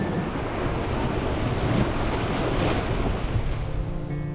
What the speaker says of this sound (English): 6 or 7 real nice waves come through.